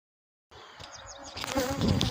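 Dense insect buzzing, many honeybees droning at close range around their hive, rising in intensity and filling the space after a brief silence.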